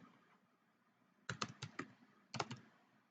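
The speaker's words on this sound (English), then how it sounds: "We're just going to type in statistic calculator" A computer keyboard is typed on in two short quick bursts, a run of several crisp clicks and then a shorter run, close and fairly quiet over faint background hiss.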